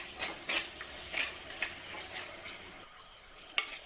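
Onions and masala for Kerala-style coconut fish curry are stirred in a pan, soft sizzling under intermittent scraping and light clinks of a utensil, close and fairly quiet.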